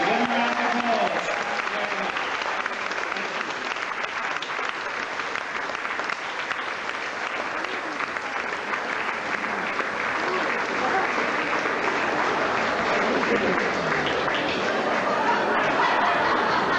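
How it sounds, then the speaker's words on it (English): An audience gives the dancers sustained applause, thick continuous clapping from a large crowd with scattered laughter and chatter mixed in, holding steady throughout. "thank you very much, dancers, for coming. We thoroughly enjoyed having you here. It's been nice. Give them a round of applause."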